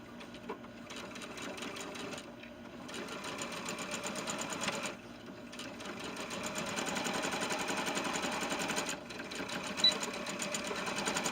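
A sewing machine runs in steady bursts while stitching small ninja pants for a ball-jointed doll, the rapid mechanical whir pausing briefly between seams, close and clear with no talk.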